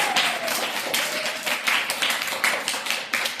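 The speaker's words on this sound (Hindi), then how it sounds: "ताली बजा दो भाई इनके लिए।" A classroom of children breaks into lively, continuous clapping for a classmate who answered a riddle, the dense claps holding steady for several seconds.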